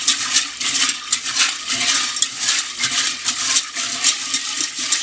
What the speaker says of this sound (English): And you just swish them around.